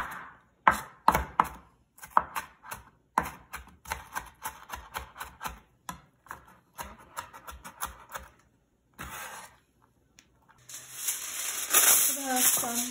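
A knife chops green onion into small pieces on a cutting board, rapid crisp taps in uneven bursts, close and clear, followed by a rustle of aluminum foil near the end.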